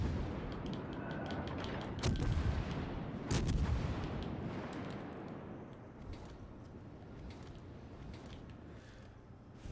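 Heavy naval guns fire in World of Warships Legends, two deep booming salvos a little over a second apart, each rolling off into a long rumble, with scattered distant shots and explosions continuing afterward.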